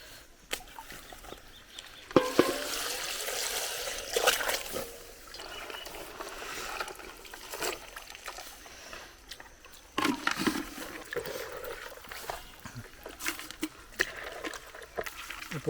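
Crabs are washed by hand in water, with splashing, sloshing and dripping in uneven bursts and a louder spell midway, fairly close and without talk.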